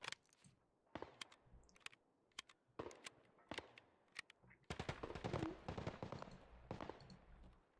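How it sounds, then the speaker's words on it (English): Gunfire in the shooter Escape from Tarkov, sharp shots spaced apart at first, then a denser volley of rapid cracks, moderately loud and nearby, no voices. "Oh, that's a suppressed pistol."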